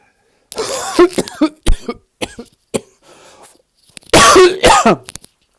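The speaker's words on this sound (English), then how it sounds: "I apologize, and it's not a dry cough." A person coughs in several harsh, wet bursts close to the microphone, a wet rather than dry cough, with short pauses and a throat-clearing in between, then a final loud fit.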